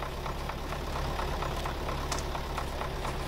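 Vehicle engine left idling: a steady low, rhythmic chugging with faint ticking, even and unbroken throughout, moderately quiet and nearby with no talk over it.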